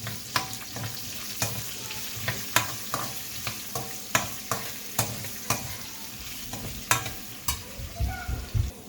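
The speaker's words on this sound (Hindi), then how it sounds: "प्याज शामिल करूँगी मैं, सोटे करेंगे।" Onions sauté in a pan with a constant sizzle while a utensil scrapes and taps the metal in a quick, fairly regular rhythm, close and clear, with no talking.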